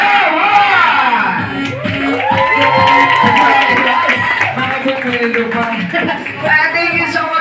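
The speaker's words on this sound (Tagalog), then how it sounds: "Hiyawan!" A crowd at a Jollibee-sponsored birthday party breaks into loud cheering and shouting, many excited voices, some children's, rising and falling together close by.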